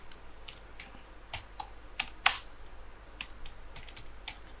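Computer keyboard typing in short irregular bursts of soft key clicks, quiet and close, with one sharper louder tap midway and no speech.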